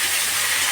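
Kachurmukhi vegetables and fish being stirred and fried in a pan, a steady close sizzling hiss with no break, loud and continuous throughout.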